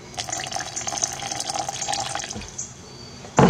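Water pours from a bottle into a jar of hot sauce mix, a steady splashing trickle for about two and a half seconds that tapers off, followed by a short louder clatter at the end.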